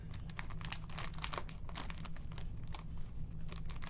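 A plastic bag from a mystery yarn unboxing crinkles as it is opened, a close, continuous rustle of crackling and scrunching with a few sharper pops and no voices.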